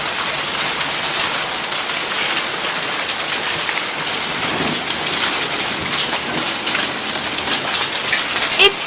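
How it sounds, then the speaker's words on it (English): Golf-ball-sized hail pounding down outdoors during heavy weather, a dense constant hiss and clatter of impacts, loud and close, with occasional sharper hits. "It's hail, the size of golf balls."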